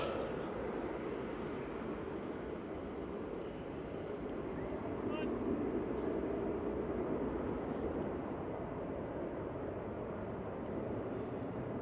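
An aircraft departing Manchester Airport makes a continuous, distant engine roar with light wind noise, steady and moderately faint throughout.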